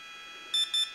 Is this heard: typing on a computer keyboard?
no